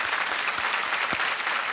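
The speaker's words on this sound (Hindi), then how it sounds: "तालियां बज जाएं हरिओम जी के लिए।" Brief burst of steady studio audience applause on the game show Kaun Banega Crorepati, dense and sustained with no talking.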